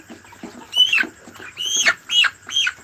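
Chickens cluck and squawk up close in a series of short, bright calls, several overlapping bursts spread over a few seconds with no talking.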